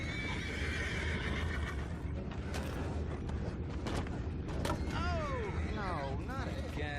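Horses whinny and neigh with shaky, rising calls amid clip-clopping hooves and creaking tack in the game Red Dead Redemption 2, over a constant busy background.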